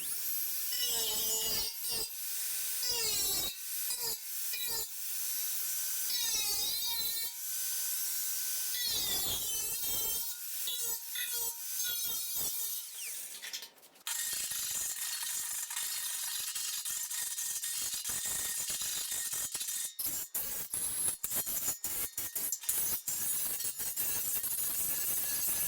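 Metal cutting on a 1957 VW oval-window Beetle bonnet, chopping out a damaged section: a harsh, loud grinding rasp with stuttering bursts and scraping, steadying into continuous close cutting noise later on.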